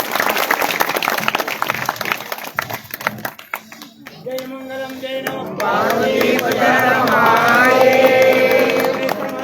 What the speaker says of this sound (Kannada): ಜೋರಾದ ಚಪ್ಪಾಳೆ ಎಂಬುದು.